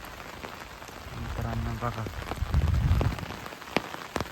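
Rain falls steadily over a village near a dam and resort, a soft, continuous hiss of drops with a few sharper taps, while someone talks briefly over it.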